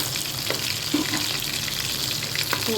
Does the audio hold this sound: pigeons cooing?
no